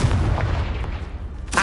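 Confringo spell blast in Hogwarts Legacy, a single deep booming burst at the start that fades into rumble, with a second sharp crack at the end.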